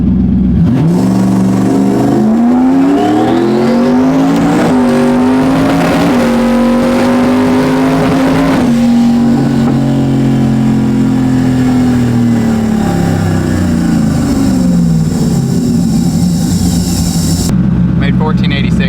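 Twin-turbo car engine on a dyno during a power pull, loud and close, revving in a long continuous rise that levels off before being cut, with the note sounding rough near the top, and no talk over it.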